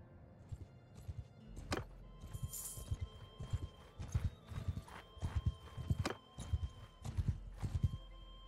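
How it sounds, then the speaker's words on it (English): Hooves from a couple of horses in the Mount and Blade video game clop in an uneven, close rhythm across the whole stretch, with a brief whinny early on and no talking over them. "Couple of horses."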